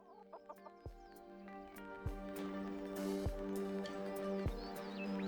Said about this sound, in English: It was a chicken.